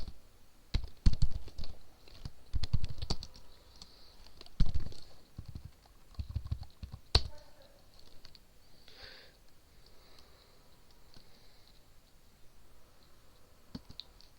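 Typing code on a computer keyboard, with bursts of close, rapid key clicks in the first half, then sparser taps and a lone sharp click near the middle, quieter toward the end.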